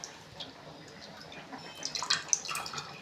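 Tamarind water poured into cooked lentils with drumstick and brinjal for sambar, a soft, faint liquid splash and trickle close by that grows busier toward the end.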